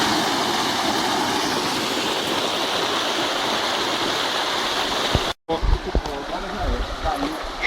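A waterfall on a rainy trail in Chapada Imperial roars as a constant dense rush of water, loud and close, then cuts off abruptly, leaving softer water noise with a few knocks and handling sounds.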